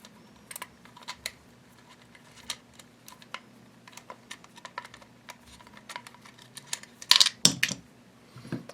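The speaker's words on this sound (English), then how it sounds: "unscrewing the bolt." A long Allen wrench turns a bolt inside a GSG-16 rifle, making a run of small, sharp metallic clicks and ticks at a close distance, ending in a brief louder rattle.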